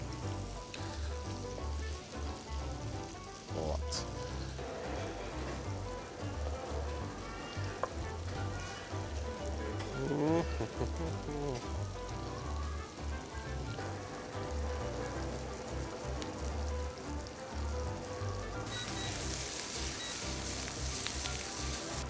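Meat sizzling steadily in a hot pan for chili con carne, a continuous crackling fry at moderate volume with occasional stirring scrapes and no talk.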